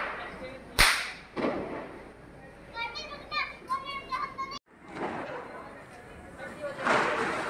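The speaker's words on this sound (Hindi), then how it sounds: "यहाँ पे पटाखे फोड़ रहा है" A sharp firecracker bang followed by a second pop and a later one, heard outdoors during Diwali while children chatter and shout nearby.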